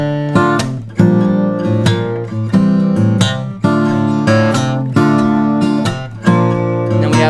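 Fingerstyle acoustic guitar plays the iconic intro of a song in its unplugged arrangement, bright plucked phrases with strong rhythmic attacks recurring about every second, close and clear with no talking.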